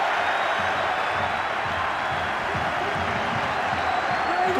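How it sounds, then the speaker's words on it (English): Steady broadband roar of a large rugby league stadium crowd at Warrington, cheering and applauding continuously at high level, with no single voice standing out. "Listen to this crowd."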